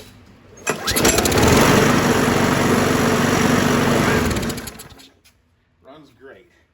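A 2009 Craftsman self-propelled lawn mower engine, just after a carburetor rebuild, pulls to life with a loud start, runs with a steady close rattling drone for several seconds, then shuts off and winds down, followed by brief talk.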